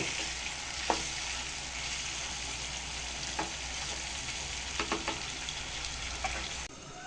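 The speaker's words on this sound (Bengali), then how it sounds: "পাঙ্গাস মাছটা সুন্দরভাবে মশলার সাথে মিক্স করে নিব।" Pangas fish frying with spices in a pan gives off a steady close sizzle, with a few sharp scrapes and taps of a spatula as it is mixed; the sizzle cuts out abruptly at the end.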